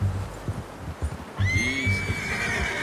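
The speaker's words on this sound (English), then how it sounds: "How's that new horse?" A horse in the Red Dead Redemption 2 video game whinnies loudly with a rising-then-falling neigh, preceded and accompanied by soft hoof clip-clops and low thuds.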